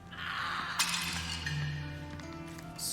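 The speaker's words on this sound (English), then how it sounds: "Screaming and a smash." A vase smashes in a Sherlock Holmes video game, one sharp crash of breaking ceramic ringing out over a sustained background tone, followed by faint tinkling.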